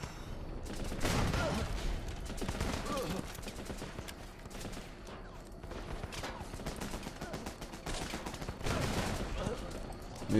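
Machine gun fire in the video game Running With Rifles, steady rattling bursts of automatic fire at moderate distance, continuing through the whole stretch with occasional louder volleys.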